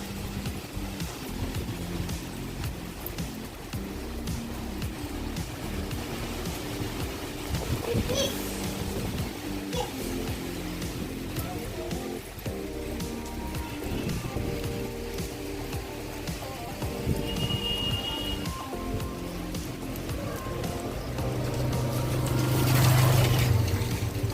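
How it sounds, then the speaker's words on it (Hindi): Heavy rain and strong wind roar in a steady broadband wash outdoors, loud and unbroken for the whole stretch and swelling toward the end, with a low rumbling hum running beneath it. "बहुत तेज़ बारिश भी हो रहा है और कितना हवा चल रहा है"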